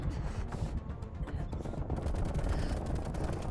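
Gunfire aimed at a VIP during an exfil in the video game Call of Duty: Black Ops Cold War, rapid automatic bursts crackling continuously at mid distance over dense battle noise.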